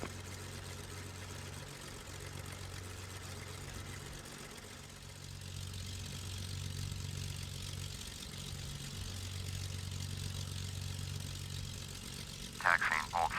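A propeller airplane taxis in Microsoft Flight Simulator X, a steady low engine drone that holds throughout, with a brief sharper burst near the end.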